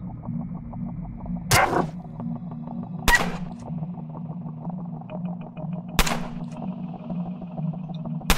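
Four separate gunshots fired at animals in the game Underrail, sharp single cracks spaced a second or more apart over a steady droning ambient hum with faint ticking.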